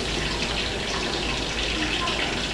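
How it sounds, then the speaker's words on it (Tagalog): Water pours steadily into meat cooking in a pan, a continuous close splashing gush with faint talk underneath. "Konting tubig mga Beli. Para mas lalong lumambot yung karne."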